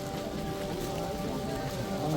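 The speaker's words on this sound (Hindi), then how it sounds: "काफ़ी बारिश हो रही है यहाँ पर।" Heavy rain falls steadily at Kedarnath on a pilgrimage route crowded with raincoat-clad pilgrims, palanquins, mules and horses, a dense, continuous wash of rainfall with no talk.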